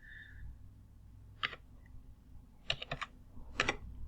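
Short bursts of clicking on a computer keyboard, a few clustered keystrokes separated by pauses, close and fairly quiet in a still room.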